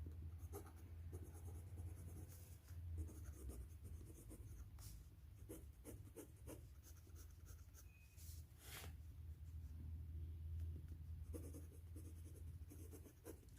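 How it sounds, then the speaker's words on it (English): A fountain pen with a 1.1 stub nib, running on the drier side, scratches across paper in continuous strokes with short pauses, a steady close-up scratching alone. "This particular stub writes on a drier side."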